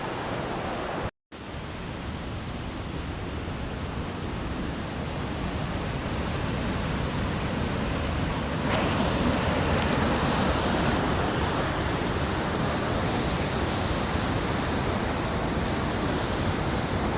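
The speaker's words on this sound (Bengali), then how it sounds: "এই যে ঝর্ণাটা দেখতে পাচ্ছেন, এটা আসলে পাহাড়ের উপর থেকে আঁকা বাঁকা হয়ে নদীর মতো আস্তে" A waterfall winding down a hillside in Rawang gives a steady, full rushing roar of water that stays constant and close throughout, swelling slightly louder near the end, with no voices.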